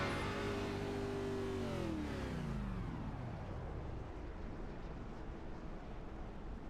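Race car engine at full throttle during a short-track race at Martinsville, a loud sustained roar that sweeps downward in pitch as the car passes, then settles into a steady blur of engine noise, with no talk.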